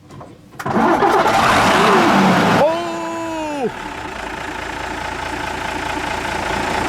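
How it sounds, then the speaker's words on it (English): A 1970s Mercedes fire truck at an outdoor car and truck show in Kasterlee, Belgium cranks with a loud broadband roar, then a brief rising whine as the engine catches and settles into a steady idle; a voice exclaims once. "Here is a 1970s Mercedes fire truck, guys. And they're gonna fire it up right now."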